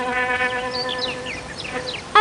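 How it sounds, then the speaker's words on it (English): A cartoonish bee buzzes in the I Spy Treasure Hunt video game, a wavering tonal drone with sliding warbles, fairly loud and close, ending in a short bright blip. "A bee."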